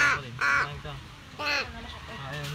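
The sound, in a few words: crow cawing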